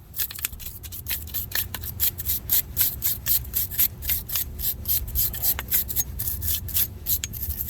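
Dirt is scrubbed from around the single piston of a 2012 Chrysler 300 brake caliper, giving quick, rhythmic rasping strokes close up that run steadily without a break.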